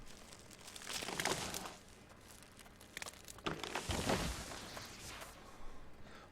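Rough stone being gathered in the video game Albion Online gives bursts of crunchy, crackling impacts in two clusters, moderately loud and with no talking.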